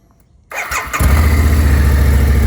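A Harley-Davidson V-Rod motorcycle with its stock exhaust pipe starts after a moment of quiet, catching with a short burst, then settles into a loud, steady, deep idle rumble close by.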